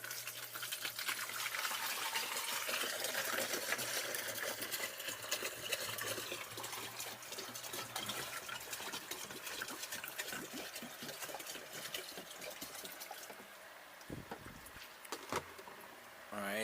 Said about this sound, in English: And as always, we're going to aerate our water.